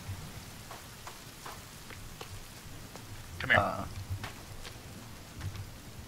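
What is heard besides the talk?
rain in a video game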